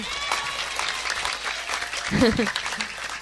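Scattered late applause from a congregation at an Islamic religious gathering, thin clapping mixed with voices and a brief vocal outburst partway through.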